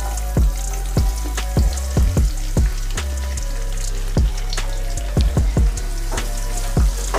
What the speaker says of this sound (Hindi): प्याज को 1 से 2 मिनट तक अच्छी तरह भून लेंगे।